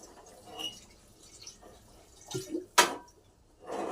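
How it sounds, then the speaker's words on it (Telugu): Water is poured into a pot in a few short splashing bursts, close by, with quiet gaps between them. "సరిపడా వాటర్ పోసుకుందాం."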